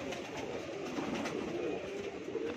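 Pet pigeons at a home loft in Mumbai coo softly and steadily, layered over a constant murmur of background noise, with no one talking.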